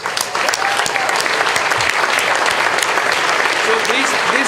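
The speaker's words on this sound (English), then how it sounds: "Let's give them a big applause." Loud, continuous audience applause at a Clinton Global Initiative event, a thick wash of many hands clapping with some louder individual claps, while voices are faintly heard beneath.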